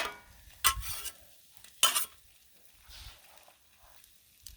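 Vegetables and bacon cooking on a griddle, a faint sizzle broken by two loud scraping bursts of a spatula against the metal surface and softer stirring noises afterward.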